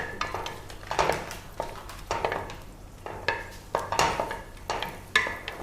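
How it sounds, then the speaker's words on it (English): Raisins frying in hot ghee in a pan, with a steady sizzle under repeated clinks and scrapes of a spoon stirring against the metal, close and moderately loud, with no voices. "Let's add a few raisins. Raisins fry very fast."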